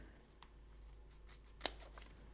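Scissors snip through thin polarizer film for a GameBoy Light screen replacement, a quiet close cut with one small snip followed by a sharper, louder clip a second later, no talking.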